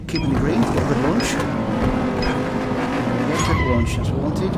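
A Jaguar F-Type launches in the mobile racing game Need For Speed No Limits. Loud, steady engine roar with rising revs carries through, while a person talks over it.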